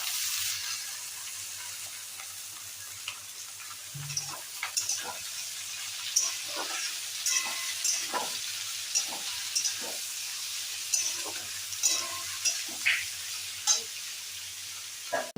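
Taro stolons frying in a pan with onion and shrimp, a steady hiss of sizzling oil with scattered crackles and stirring clicks, close and moderately loud, no talking.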